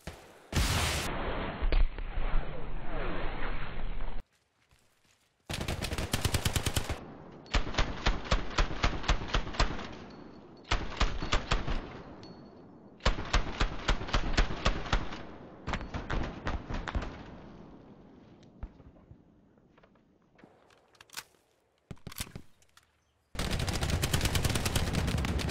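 Bursts of automatic machine gun fire in the World War II shooter Hell Let Loose, several long rapid rattling strings separated by short pauses, loud and close, with scattered single shots and a final sustained burst.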